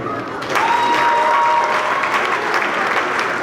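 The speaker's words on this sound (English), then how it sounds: "Can we give our middle students another round of applause?" An audience at a school awards ceremony applauds middle school students, a full, even round of clapping that rises quickly and holds steady at close range.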